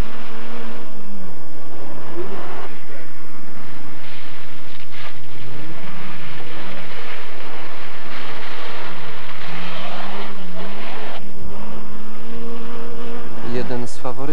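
A Mazda 323 4WD Group N production rally car with a 180-horsepower engine revs and accelerates hard, its pitch climbing and falling through gear changes, loud and close, with a commentator talking over it.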